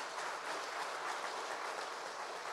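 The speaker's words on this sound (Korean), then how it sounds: "우리 환영의 박수 해주시겠습니다" A church congregation applauds to welcome an elder during a worship service, a dense, steady clatter of many hands clapping that fills the whole stretch without pause.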